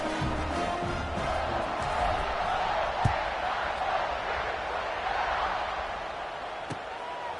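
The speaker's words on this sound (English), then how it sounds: "this crowd is buzzing after that last score" Crowd buzzing in a stadium during a football video game, a steady broad murmur of many voices with a few sharp knocks, continuous and fairly loud.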